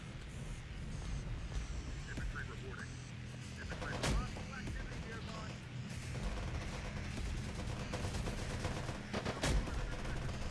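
Gunfire from an Avenger turret in Terminator Dark Fate Defiance rattles in dense bursts amid a busy battle din, with sharp reports standing out near four and nine seconds over constant rumbling background noise.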